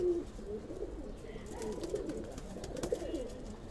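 Pigeons coo softly at close range in a quiet indoor loft, low rolling calls repeating several times over faint background noise, with a brief murmur of voice in the mix.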